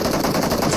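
Rapid automatic gunfire in a BGMI esports match, a dense, continuous burst of shots with no talk over it.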